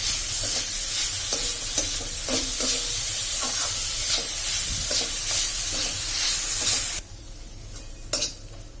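Jaggery melting in a pan while being stirred for ukadiche modak filling: steady close sizzle and hiss with repeated scraping strokes of the spoon, which go quiet near the end before one last brief scrape.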